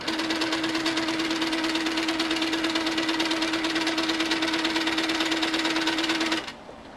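A sewing machine runs steadily while stitching along a ruler on a pieced quilt border, a continuous close, even motor hum for about six seconds before stopping abruptly near the end.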